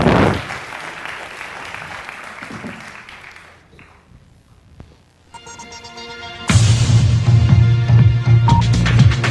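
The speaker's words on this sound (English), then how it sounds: "warm round of applause for group number 2" Audience applause in a hall, with a burst of clapping at first that thins and fades, then a louder sustained section with a tonal, musical quality rising near the end.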